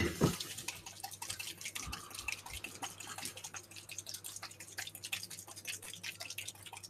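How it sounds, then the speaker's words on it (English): A drink bottle with stirring balls inside is shaken, giving a steady run of small, close rattling clicks and watery sloshing ticks, with a sharper knock at the very start. "I can hear dribbly water. Oh, no, it's me shaking the bottle."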